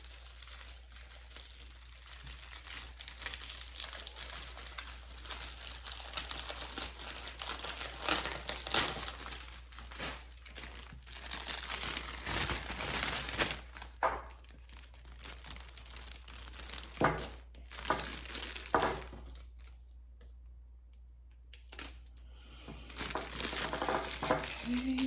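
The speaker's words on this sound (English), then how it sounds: "cellophane bag" A cellophane bag being crinkled and crushed by hand, with a steady dense rustle that runs throughout, dipping briefly into near-quiet gaps before resuming.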